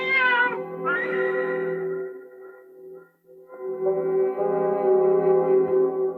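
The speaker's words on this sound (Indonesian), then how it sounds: "Rupanya kucing ini telah mengganggu perjalanan Anda." A cat meows in a Sundel Bolong horror film scene: a short cry, then a long, drawn-out, wavering yowl that swells again after a brief pause, with no talking.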